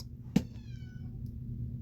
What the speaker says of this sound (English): That's my cat, my bad.